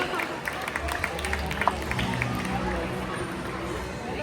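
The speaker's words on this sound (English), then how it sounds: "How about a round of applause for our 2 female killer whales, Malia and Nalani?" An outdoor stadium crowd at a SeaWorld Orlando killer whale show claps and cheers, a dense wash of applause mixed with crowd babble and some speech throughout.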